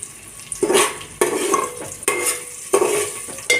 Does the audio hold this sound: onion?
yes